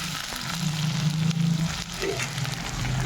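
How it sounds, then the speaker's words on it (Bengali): Papaya pieces fry in hot oil tempered with cumin seeds, giving a steady close sizzle with a faint low hum running through the background. "তেল দিয়ে জিরা ফোড়ন দিয়ে দিলাম পেঁপেগুলো দিয়ে পেঁপেটা সুন্দর করে আলুর মতো করে ভেজে নেব"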